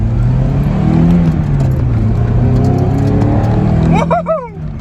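Budget Toyota MR2 with an overheating, blown-headgasket engine pulling hard under acceleration, a loud, steady engine drone rising in pitch from inside the car, with a brief voice-like whoop near the end.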